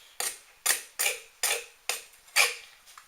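A Browning model 0181 knife blade shaves strips from wood in six quick, evenly spaced scraping strokes, close and crisp, with near-silence between each pass.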